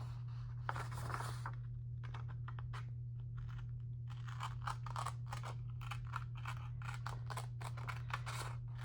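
Scissors fussy cutting around the curvy edge of paper, a string of soft close snips and crunching cuts over a steady low hum, with no speech.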